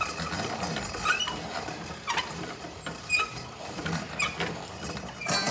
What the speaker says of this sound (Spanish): Entonces vamos a meter una tacita y vamos a moler.